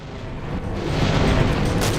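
A dense, roaring rumble of overlapping explosions in a Doom mod, building slightly in loudness with crackling bursts throughout.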